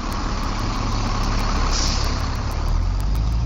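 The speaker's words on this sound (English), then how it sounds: "a bus idles while the morning students and urban commuters climb aboard" A city bus idles at an intersection in Madison's University District, giving off a steady, loud low diesel rumble with a constant broadband engine hum throughout and no voices.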